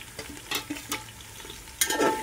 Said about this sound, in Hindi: अब थोड़ी सही से पका लेते हैं, प्याज को भून लेते हैं।